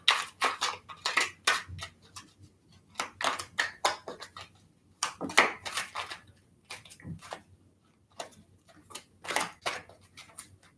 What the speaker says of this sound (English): I was told to shuffle these cards